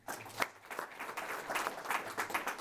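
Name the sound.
audience applause for the next presenter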